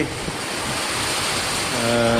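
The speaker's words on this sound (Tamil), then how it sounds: "பலத்த காற்றுடன் பார்த்திங்கன்னாக்க மழை அவ்வளோவா பெய்யலை, சும்மா லேசான சாரல் தான்." Strong wind with light drizzle sweeping through a banana plantation in Tamil Nadu, a loud, continuous rushing roar buffeting the microphone, with a brief tonal hum entering near the end.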